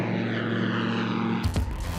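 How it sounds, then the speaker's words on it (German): A propeller airplane drones steadily overhead, then near the end a close roar of a passing car breaks in over the hum. "Ein Flugzeug."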